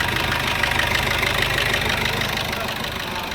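A steady, continuous engine idle with a low rumble and even hum, holding constant throughout with no voices.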